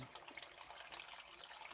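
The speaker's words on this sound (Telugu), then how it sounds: "వాళ్ళు తిప్పితే నీళ్ళు ఫాస్ట్గా వస్తున్నాయి అంటున్నాడు" Water pours quickly from a water tank outlet as a faint, steady rushing hiss, ending with a short, louder thump.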